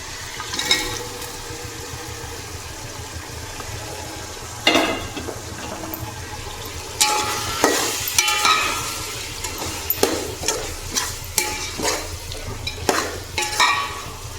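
Mutton added to a pot of softened tomatoes for mutton biryani, frying with a low sizzle while a spoon stirs and scrapes in repeated clattering strokes, close and fairly loud, with no voices.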